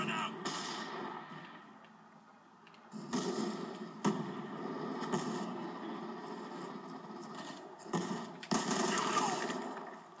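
Bursts of automatic gunfire and shotgun blasts crackle through a Call of Duty multiplayer match, fairly faint and mixed with game sounds, coming in uneven clusters while a player talks over the action.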